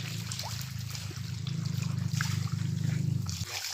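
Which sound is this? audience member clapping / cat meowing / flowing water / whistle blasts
flowing water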